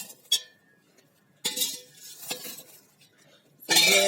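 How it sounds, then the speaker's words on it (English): Kitchen waste such as cauliflower leaves, onion peels and tea leaves dropped into a pot for a hibiscus plant: scattered rustling thumps and scrapes, a few short bursts separated by quiet gaps, then a louder rustle at the end. "So I'm just going to add the kitchen waste in it."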